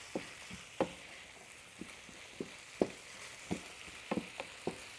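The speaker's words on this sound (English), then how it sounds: "Let the beef brown and the peppers and onions soften." Beef browning in a pan with peppers and onions gives a soft, steady sizzle, broken by a dozen scattered clicks and taps of a utensil against the pan, fairly quiet and close.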